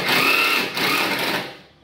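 Power drill driving a screw into the edge of a wood board, a short high whirring burst that winds down after under two seconds, close and alone.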